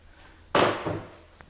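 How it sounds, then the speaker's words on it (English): A single sharp tap of a hammer on a nail against a wooden door to mark a screw hole for a doorknob, a sudden close knock that rings briefly and fades, with a faint tick after. "Then you can take a nail"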